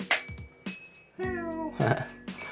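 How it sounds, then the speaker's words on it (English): A house cat meows several times close by, a short chirp followed by a longer, drawn-out meow and further calls, with brief speech-like sounds between them. "Oh, that's my cat saying hello."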